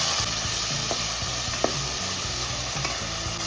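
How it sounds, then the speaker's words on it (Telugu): Tomatoes, green chillies and curry leaves fry in a pan with a steady sizzle, stirred continuously with regular scraping strokes and a few sharper clinks, close and moderately loud, no voices. "ఇప్పుడు టమాటాలు ఫ్రై అవుతుండగా దీంట్లో మనం కొంచెం ఉప్పు వేసుకొని ఇలా ఫ్రై చేసుకోవాలి"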